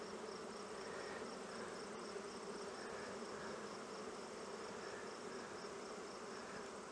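Honey bees crowd around a nuc box, producing an unbroken, even hum of many wings close by, steady throughout without any talking.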